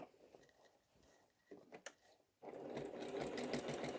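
A sewing machine fitted with a walking foot stitches straight diagonal quilting lines, quiet mechanical ticks at first, then a steady rapid stitching hum starting after a couple of seconds, close and fairly soft.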